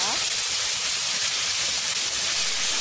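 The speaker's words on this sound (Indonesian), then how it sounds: "selanjutnya tumis bumbu hingga matang dan harum ya" Spice paste for a spicy beef krengsengan frying in a Sun Cooker wok pan, a loud, steady, dense sizzle and hiss heard close up without a break.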